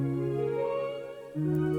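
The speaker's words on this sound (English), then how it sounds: "It adds like a lot of distortion to it." A sustained, buzzy distorted guitar line playing a slow melody, with thick harmonics and a brief dip before the next held note.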